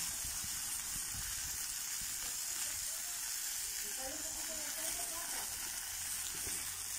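A pan sizzles without oil in a steady, bright hiss, continuous and close, with faint crackles and a soft voice briefly underneath.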